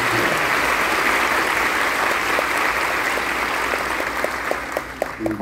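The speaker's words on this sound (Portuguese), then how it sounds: "Até peço uma salva de palmas para essas pessoas." An audience at an Orquestra Sinfônica de Indaiatuba concert gives sustained, dense applause that holds steady, then thins out toward the end as a few scattered claps remain.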